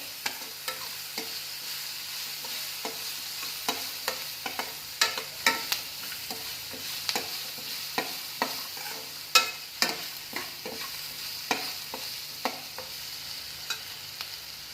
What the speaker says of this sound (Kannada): ಚೆನ್ನಾಗಿ ಕಲಸೋಣ